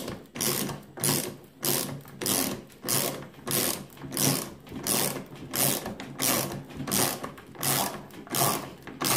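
Parkside 8-in-1 multi-functional ratchet wrench ratcheting steadily, with about a dozen evenly spaced bursts of close, crisp mechanical clicking repeating back and forth, with no voices.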